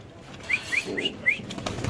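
Pigeon wings flap in a few short bursts, with light bird calls mixed in against quiet background noise, at a pigeon sale with birds sitting on eggs.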